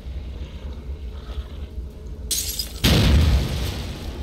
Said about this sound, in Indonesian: Ya meledak lagi kena gituan.